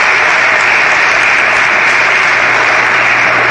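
An audience at a national monument ceremony breaks into sustained applause, a dense, loud wash of clapping that holds steady throughout with no speech over it.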